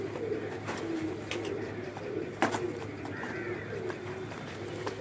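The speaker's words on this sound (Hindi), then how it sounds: "देखें जी कबूतर, दिखाएं इधर" Soft cooing from pigeons kept by a pigeon fancier in Lahore, faint and somewhat distant, with low murmurs of talk in the background.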